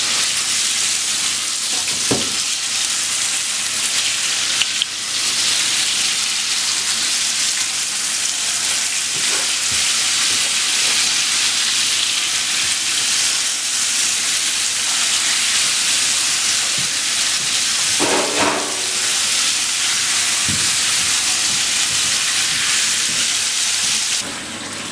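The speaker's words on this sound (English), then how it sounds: "I'm just going to add my diced chuck, or just tossed in seasoned flour. I'm just going to seal these quickly." Diced beef chuck tossed in seasoned flour sears in a Firex CBTE030 tilting kettle, giving a steady loud sizzle throughout with a few scraping stirs and clanks, and no talking.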